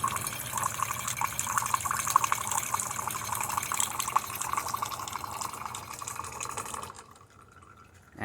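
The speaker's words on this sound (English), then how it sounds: "Now let's test the hot water of the machine." A refurbished Delonghi Magnifica XS espresso machine runs a steady stream of hot water, a continuous close hiss and splash that cuts off near the end.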